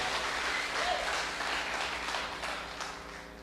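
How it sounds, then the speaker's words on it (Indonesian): A church congregation applauds at a worship service, a steady wash of many hands clapping that fades gradually without speech. "Beri tepuk tangan yang paling meriah buat Tuhan."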